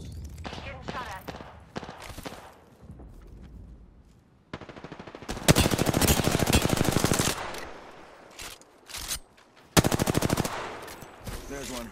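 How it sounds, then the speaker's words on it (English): Apex Legends gunfire crackles in rapid automatic bursts, short scattered shots early and then long, loud sustained volleys with brief gaps, mixed with talking. "Getting shot at."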